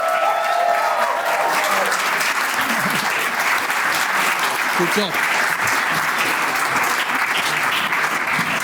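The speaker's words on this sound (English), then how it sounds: "Can we have a final round of applause to all the speakers" A crowd gives a final round of applause for speakers at an awards event in a grand hotel venue, loud continuous clapping throughout, with a brief remark spoken over it.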